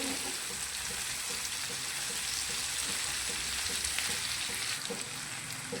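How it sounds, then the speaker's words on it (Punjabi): Onion and tomato fry in a pan with bay leaf, giving a steady, close sizzle and crackle with faint stirring scrapes throughout, no voices. "2-3 ਮਿੰਟ ਆਪਾਂ ਇਦਾਂ ਹੀ ਇਹਨੂੰ ਪਿਆਜ਼ ਟਮਾਟਰ ਨੂੰ ਭੁੰਨ ਲੈਨੇ ਆ"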